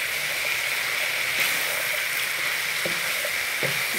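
Onions added to meat in a pot for kebab hala with potatoes set up a steady, even sizzle and fry hiss, with a few light stirring clinks scattered through it.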